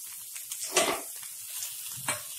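Small fish frying in oil for a dry fish fry, giving a soft, steady sizzle with a couple of brief louder crackling bursts, heard alone and fairly quiet.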